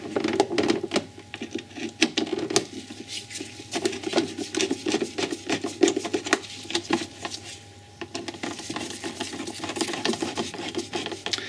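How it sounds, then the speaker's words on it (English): Screws being turned back into the plastic air filter housing of an Audi S4 B6 with a 4.2 V8, a quiet sequence of small scraping, rubbing and clicking sounds, close and intermittent, with no talking. "Now ready to put the 2 screws back in at the front."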